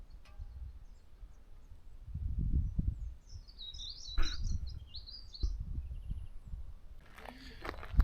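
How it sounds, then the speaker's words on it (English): Birds chirp and trill in short bursts in the open air, fairly faint over low rustling and outdoor background noise. "Hear the birds."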